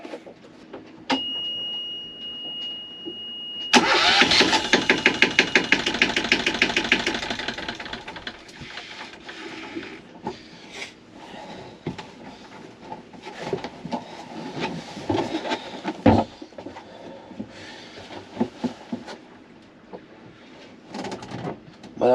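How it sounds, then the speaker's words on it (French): A Yanmar 1GM10 single-cylinder marine diesel cranks and catches with a loud burst, then settles into a steady, rapid knocking idle close by, with clanks and taps around it. "Là maintenant il ne reste plus qu'à mettre le moteur en route."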